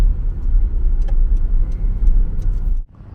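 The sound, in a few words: car pulling into a car park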